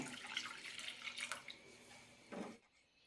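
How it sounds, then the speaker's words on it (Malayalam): Milk poured into a pan of dissolved sugar syrup while making moong dal and sago payasam, a steady liquid splash and trickle, close and fairly quiet, ending with a brief louder splash before falling silent. "ഇനി ഇതിലേക്ക് ഒരു കപ്പ് പാൽ കൂടി ഒഴിക്കാം"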